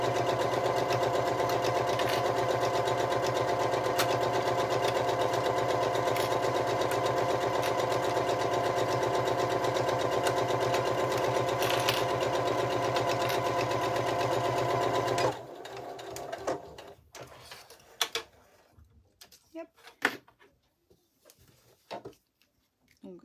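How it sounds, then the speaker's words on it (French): Sewing machine stitching a Christmas stocking runs in a fast, steady whir for about fifteen seconds, then stops, leaving scattered handling clicks and rustles. "Je pense à mon point avant-arrière pour sécuriser ma couture et c'est parti."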